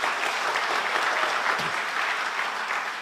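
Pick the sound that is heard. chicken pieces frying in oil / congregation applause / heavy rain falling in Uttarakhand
congregation applause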